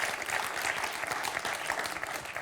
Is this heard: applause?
yes